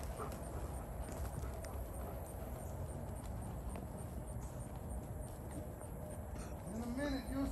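A mare led on a walk, her hooves clip-clopping in a steady plodding rhythm at close range, set against constant outdoor background noise, with a person talking nearby.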